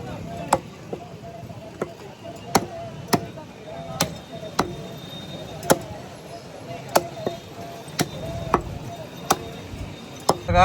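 Food being chopped finely on a board for a goat mutton dish, about a dozen sharp knife strikes at a slow irregular rhythm, close and loud over a low background murmur of voices.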